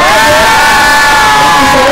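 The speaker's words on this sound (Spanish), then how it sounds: "Más fuerte el aplauso para Emma" A loud crowd cheers and applauds for a Nicki Minaj look-alike performer at a drag show in Chile, with sustained shouts and whoops riding over a dense roar of clapping.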